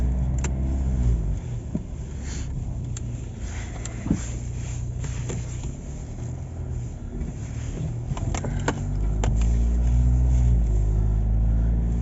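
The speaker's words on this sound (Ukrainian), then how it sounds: "проїдуся чуть Коробка перемикає плавно, драйвер включили і погнали." A 2012 Hyundai Santa Fe with a 2.2 diesel and automatic gearbox drives along, its low steady engine drone heard from inside the cabin, rising slightly toward the end with faint clicks and interior noises.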